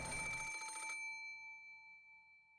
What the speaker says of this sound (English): suddenly, a piercing sound of a phone rang through the room